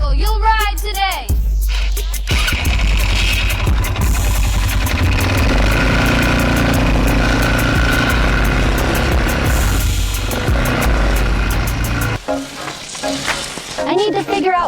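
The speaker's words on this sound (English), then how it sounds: "Okay, Katya, wait for the quadricycle." An ATV quad bike engine idles and revs close by, a loud rough running drone broken by brief shifts, with faint voices at the start and end.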